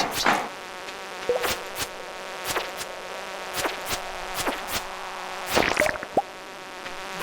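Buzzing bugs in a Stardew Valley mine level, with a faint continuous drone broken by repeated sharp game hits and clicks at irregular intervals.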